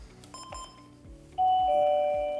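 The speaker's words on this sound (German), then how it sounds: "Wenn nun auf der Außenstation geklingelt wird" A Mathfel two-wire bus intercom outdoor station rings: a few soft electronic tones, then a loud, sustained doorbell chime holds steady to the end over a faint pulsing background.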